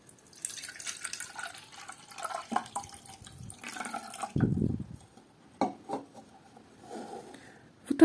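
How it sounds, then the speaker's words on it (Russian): Water poured over the roots of a blooming Mini Mark orchid with rotten roots in a pot, soft trickling and splashing with scattered drips and brief splashes, faint and close in a quiet room. "зальем корни водой"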